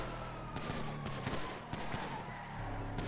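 Bursts of gunfire crackle through a constant engine drone during a video game bank job, with sharp shots scattered over a steady low rumble and no clear voices.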